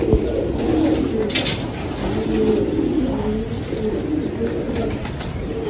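Golden breed pigeons coo in low, soft, repeated phrases that overlap against a steady background hum. A few brief higher chirps break through now and then, and no one speaks.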